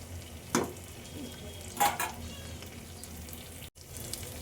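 Surmai fish curry simmering in a pan gives a faint, steady low bubbling with two brief soft scraping bursts early on, quiet and close with no talking.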